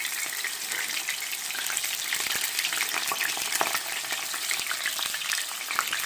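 Thin hamburger meat for New Mexico style fried tacos frying in a pan, a steady loud sizzle with crackling pops running throughout, close up and with no voices.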